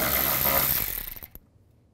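A power ratchet on a 10mm socket spins out a bolt from the rear door of a 2005-15 Nissan Xterra, a loud close whirring buzz for about a second that sputters and stops.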